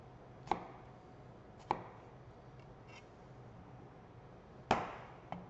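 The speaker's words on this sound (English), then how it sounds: "turn the onion sideways, and we're going to cut 1/2 inch pieces into it." Knife chopping an onion into half-inch medium dice on a cutting board: a few sparse, sharp chops spaced a second or more apart, moderately close and otherwise quiet.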